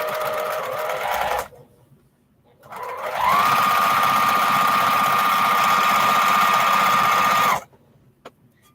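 A sewing machine stitching 2.5-inch fabric strips with a quarter-inch seam, a steady close whirring hum for about four seconds after a short earlier burst, with quiet pauses between.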